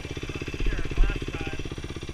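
A motorcycle engine chugs in first gear on a single-track trail, a close, rapid, steady putter with a slight rise midway, while someone speaks over it.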